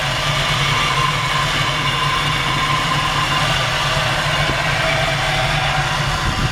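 A 1941 Chevrolet Coupe engine idling with a serpentine belt system, a steady close rumble that holds an even level without pauses.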